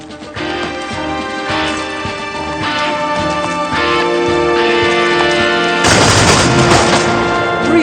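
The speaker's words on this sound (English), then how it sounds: "Three shots in 10 seconds in hand, sir." Rapid volleys of musket fire from British infantry in a Napoleonic-era battle scene, loud cracking shots close together over a swelling orchestral score, ending in a dense burst of fire.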